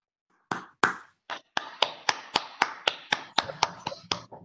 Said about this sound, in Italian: Applauso al tempo del coronavirus, questo